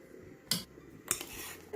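A metal spoon stirring ground paste into a pressure cooker pot, giving two sharp clinks and scrapes against the metal amid quiet kitchen background.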